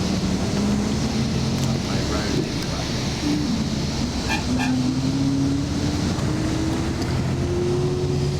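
A car climbs a narrow mountain road in the Western Ghats, its engine a steady, rising hum beneath constant broadband road and wind rumble, close and unbroken throughout.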